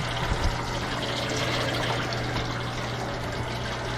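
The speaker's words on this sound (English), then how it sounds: "So we've got a leaking inlet water valve." Water leaking from the inlet valve of a Hoshizaki ice machine, a steady close trickling and pouring wash that runs the whole time over a low machine hum, with a brief knock near the start.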